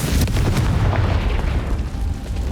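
Confringo fire spell blast in the Hogwarts Legacy video game, a loud, dense booming explosion that rumbles continuously through the moment with no voices.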